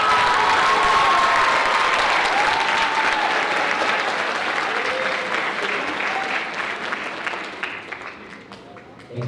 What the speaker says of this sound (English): Can we give a big round of applause to all of our soloists?